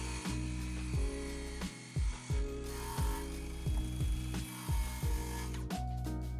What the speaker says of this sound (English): I'm setting the circle saw to about maybe 1/8 of an inch and doing some test runs on some 2x4